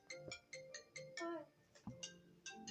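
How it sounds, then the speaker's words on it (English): Phone ringtone for an incoming call sounding during Minecraft play: a bright, repeating electronic chime pattern of short tonal bursts at a steady rhythm, fairly faint and heard on its own. "I'm getting a phone call."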